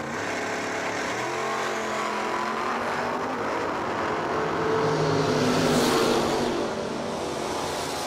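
Drag racing door cars, including a 1967 Camaro, launching off the start line at a Moser Engineering Door Car Duel, heard as a steady roar of revving engines that swells as the cars pull away, with no talk over it.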